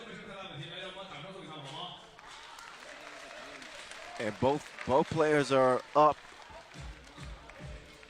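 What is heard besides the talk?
crowd applauding at a 3x3 basketball game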